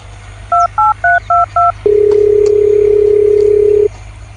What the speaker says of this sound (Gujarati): ઉભા રહો બી હાલ ફોન કરીને બોલાવું